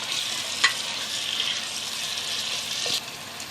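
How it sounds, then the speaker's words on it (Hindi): Chicken with ginger, garlic and masala is stirred and fried in a pan, a steady close sizzle broken by two sharp scrapes or clinks of the spoon against the pan, with no voices. "अभी चिकन को मिक्स करेंगे।"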